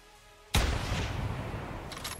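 A single loud rifle shot at an animal in the hunting game The Hunter Classic, a sharp blast followed by a long rolling echo that fades slowly.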